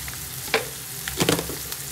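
Mutton curry with chilli powder frying in a pan, a steady close sizzle with a few sharper spits and stirring scrapes around the middle, no talk.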